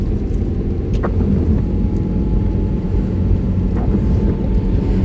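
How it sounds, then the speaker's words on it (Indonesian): A manual car pulls away in second gear after a clutch change during city driving. Its engine hums steadily and close, with a continuous low drone and faint road and wind noise underneath. "masuk gigi 2, lepas kopling pelan-pelan, injak gas ya"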